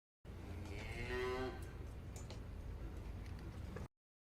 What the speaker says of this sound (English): Oh, yeah, and there's a cow.